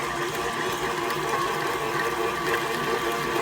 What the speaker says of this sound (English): I'm going to turn the mixer on.